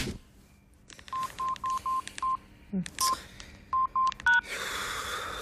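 A mobile phone's keypad beeps in a quiet room as someone sets an alarm, a run of short evenly spaced tones in two bursts with a brief rustle between them.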